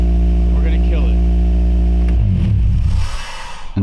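A car engine idles with a loud, steady low hum until a wired kill switch cuts it off partway through. The drone stops abruptly, leaving a brief clatter and quieter rustle.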